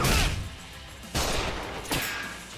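Gunfire in the video game Judgment: three loud, dense bursts of shots, each starting abruptly and trailing off, with no speech over them.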